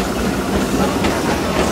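The Disneyland steam train rolls along its rails in a steady, close rumble with rhythmic clatter and a soft hiss, continuous and without speech.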